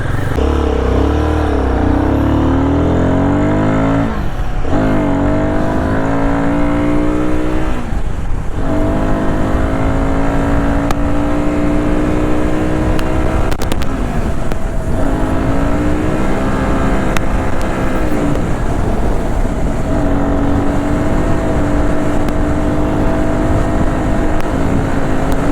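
A Royal Enfield Guerrilla motorcycle rides toward the highway, its engine droning loud and close with repeated rising revs and gear changes, wind rushing over the sustained exhaust note.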